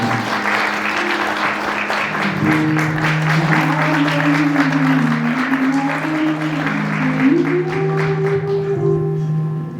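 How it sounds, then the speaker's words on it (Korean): A roomful of wedding guests applauds at a Seoul wedding hall ceremony, a continuous, fairly loud wash of clapping, while a slow melodic music line plays underneath throughout. "박수 부탁드리겠습니다"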